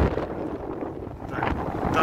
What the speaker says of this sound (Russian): Ветрено очень сильно.